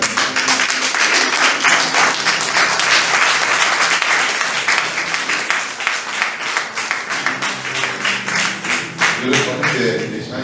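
Audience applause at a national convention launch dinner in Atakpame, a loud sustained clapping of many hands that gradually thins toward the end.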